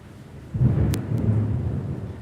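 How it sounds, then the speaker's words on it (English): Thunder rolls through a thunderstorm as a deep, sustained rumble that swells after a quiet start and holds steady, with two sharp crackles near the middle and no talking. "It's just a thunderstorm, though."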